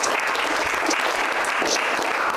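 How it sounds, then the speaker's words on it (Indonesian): Classroom audience clapping for a student named Bayu during a lecture, dense continuous applause with a few sharper individual claps standing out, sustained at a constant level with no talking. "kasih tepuk tangan buat Bayu"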